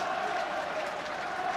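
Rugby crowd at a Heineken Cup match between Llanelli Scarlets and Northampton Saints gives a steady, even round of applause, a dense wash of clapping with no pauses, heard at moderate distance.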